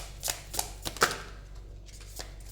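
Angel oracle cards being shuffled up close, a quick series of soft papery riffles and taps over a low background hum, with no talking.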